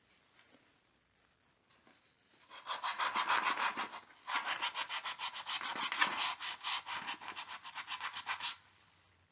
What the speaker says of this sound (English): I've been sanding off it